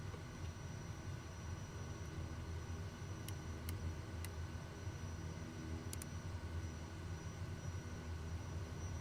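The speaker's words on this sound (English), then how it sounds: "so we take off runway 20" Airplane engine in Microsoft Flight Simulator 2020 taking off from a runway, a steady broadband roar holding constant throughout with a few faint high clicks, no talk over it.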